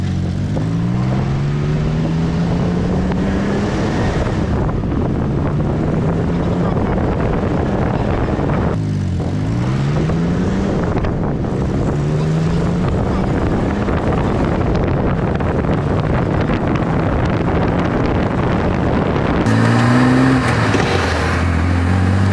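An open 1963 Chevrolet Corvair convertible with a 4-speed manual cruises steadily at about 40 mph, with heavy wind buffeting and engine drone rising and falling through gear changes, loud and continuous.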